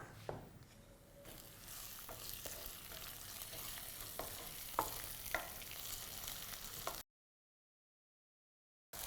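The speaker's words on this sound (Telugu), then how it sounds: "మసాలాని వేగుతున్న ఆ ఆనియన్స్లోకి వేసేస్తా" Pounded masala is dropped into onions frying in a pan, bringing a rising sizzle and several spoon scrapes and taps, before the sound cuts out abruptly near the end.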